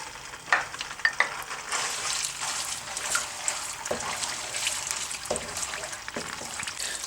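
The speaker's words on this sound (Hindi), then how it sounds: "अब इसमें खोया डाल देंगे और खोए को अच्छी तरह भून लेंगे" Khoya fries in hot ghee in a pan, a steady close sizzle with occasional scraping knocks from a stirring spoon, without talk.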